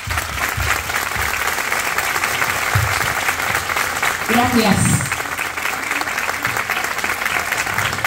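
Loud, steady audience applause fills a concert hall on a pop singer's 2024 tour, with a brief spoken thank-you and a voice rising midway through the sustained clapping.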